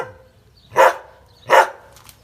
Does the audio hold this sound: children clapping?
no